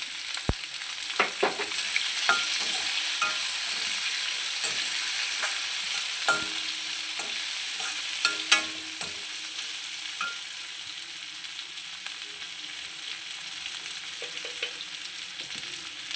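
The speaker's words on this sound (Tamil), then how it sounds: "இப்போ வந்து இதோட வந்து நம்ம வெங்காயம் போட்டுக்கலாம் பச்சை மிளகாவும் போட்டுடலாம்" Sliced onion and green chilies fry in oil in a pan for a spinach kadaiyal, producing a soft continuous sizzle with scattered clicks and scrapes from stirring.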